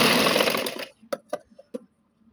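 Sewing machine stitching a seam on dress pants, one loud continuous motor-driven run that stops, followed by a few short separate clicks and knocks.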